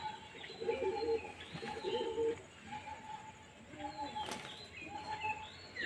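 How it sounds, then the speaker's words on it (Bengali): Pigeons released together, with repeated soft cooing and bursts of wing flapping as the flock takes off, fairly faint and close, with intermittent chirps. "খুব সুন্দর জোর নিয়ে নিয়েছে পায়রা"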